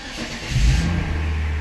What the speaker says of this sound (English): So this is the first startup since I put in the new fluid, and hopefully everything's going to go well.